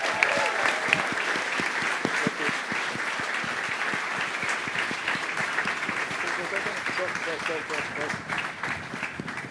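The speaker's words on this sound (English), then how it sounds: "One more round of applause, y'all." A crowd applauds at a launch event, clapping dense and continuous with individual claps standing out sharply near the mic, while a voice speaks over it.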